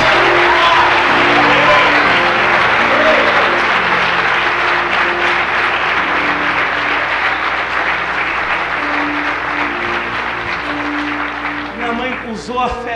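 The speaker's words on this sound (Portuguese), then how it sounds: "Pode aplaudir Jesus." A church congregation applauds during a sermon, loud sustained clapping and crowd noise filling the room, with a preacher's voice heard over it.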